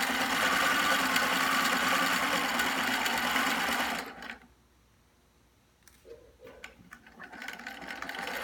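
A Husqvarna computerized sewing machine stitches in a fast, even, close whir for about four seconds, then stops; after a pause, short mechanical clicks and a brief restart of the motor follow.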